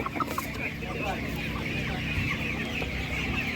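Czech Dominant chickens cluck at a busy animal market, soft repeated clucks and chatter from the hens layered over crowd murmur and background voices.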